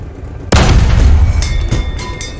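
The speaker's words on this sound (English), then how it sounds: "Now, switch to gunner view and fire at the tank engine." A tank cannon fires in the War Thunder video game, aimed at an enemy tank's engine: one sudden loud boom followed by a long rumbling decay, with fainter rattling and mechanical clanks trailing after.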